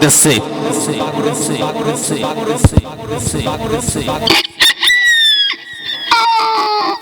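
A voice imitates a young rooster crowing with a few high, sliding crow-like calls. Just before, a dense stretch of busy background sound plays.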